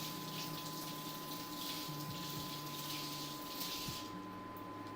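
Cold tap water runs steadily over a cucumber being washed, a continuous close hiss of flowing water that thins out briefly near the end.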